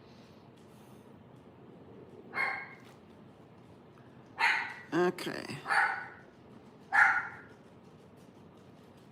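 Dogs bark indoors, set off by snow blowing outside: a handful of sharp, separate barks spaced over several seconds, moderately close, with a person briefly speaking.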